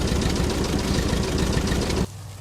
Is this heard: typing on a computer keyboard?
no